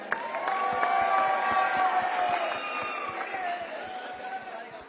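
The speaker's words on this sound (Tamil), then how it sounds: "இன்னும் பலமா சத்தமான ஒரு கைத்தட்டல்" A crowd of students at an outdoor Tamil election-tour news event cheers and claps in a steady, loud roar, with voices shouting through it for the whole stretch.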